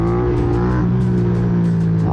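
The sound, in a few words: Buell motorcycle revving and passing by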